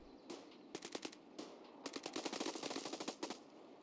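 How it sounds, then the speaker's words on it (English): Automatic weapon gunfire in Escape From Tarkov, several rapid bursts of sharp shots with short pauses between, fairly close and loud, no talking. "I'm pretty sure he's shooting at that."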